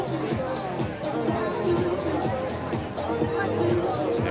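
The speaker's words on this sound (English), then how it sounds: "And a good crowd on hand as well" Crowd of fans murmuring and chattering at an event venue before a pull, a steady, dense babble of many voices with no single speaker standing out.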